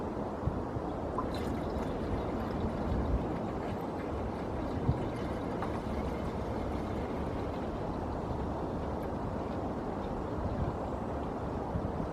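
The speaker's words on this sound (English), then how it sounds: "When you pour antifreeze in, try to pour it in sideways like that." Antifreeze pours steadily into the radiator of a 1999 Ford Expedition, a continuous close gurgling rush of liquid with a few faint knocks and clinks.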